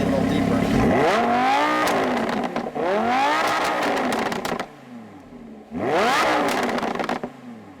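A 2015 Lamborghini Huracan LP 610-4 V10 revs hard in Corsa mode, with several rising blips close by, a brief near-silent gap, then another sharp climb and fall.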